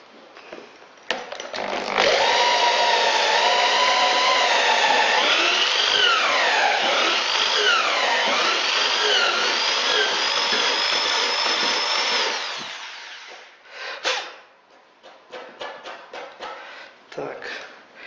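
A power drill bores a hole through a wooden floor joist, a loud, close whine lasting about ten seconds, its pitch bending up and down as the bit works through the wood, followed by a few short clatters.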